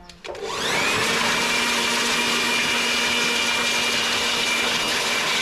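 An air blower starts up after a brief click and then roars at a steady, loud whoosh while drying a freshly washed car engine bay, running alone and unbroken to the end.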